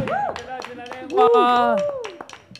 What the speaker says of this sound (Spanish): Un aplauso bien grande, por favor, a Joaquín Iglesias